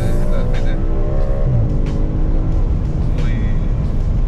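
An Audi RS5 with a 450 hp engine accelerating hard from the driver's seat, a steady loud engine drone that holds throughout under cabin talk.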